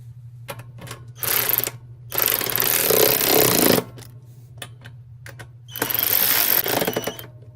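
A small power tool drives screws into a Briggs & Stratton Intek 190 gas tank in several buzzing bursts of a second or two each, close and fairly loud, separated by quieter clicks.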